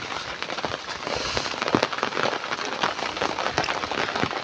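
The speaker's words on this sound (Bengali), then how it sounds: "থামছেই না বৃষ্টি" Steady monsoon rain falls on garden trees and plants as a dense, even hiss with scattered crackling drops, continuous and close throughout.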